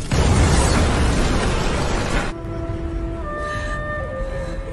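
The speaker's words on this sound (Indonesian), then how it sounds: "Bausu akhirnya tewas dengan sebuah ledakan yang cukup dahsyat" A powerful explosion in a kung fu film roars loudly as a dense, sustained blast for about two seconds, then drops abruptly into a lower rumble with faint lingering tones.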